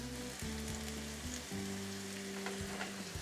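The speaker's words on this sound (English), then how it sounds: "We're gonna go ahead and get the butter melted down." Butter melting and sizzling in a pan on the stove, the first step of brown sugar glazed carrots; a steady close frying hiss with low tonal hum and faint stirring, no talking.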